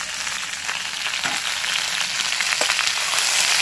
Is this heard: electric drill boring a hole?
no